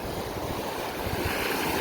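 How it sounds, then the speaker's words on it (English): Wind blowing off the ocean on a resort beach, a broad, steady rush of wind noise mixed with the wash of surf, unbroken and even throughout. "with the wind coming off the ocean here, the sea"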